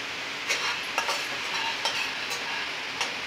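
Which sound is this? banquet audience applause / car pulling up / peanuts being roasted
peanuts being roasted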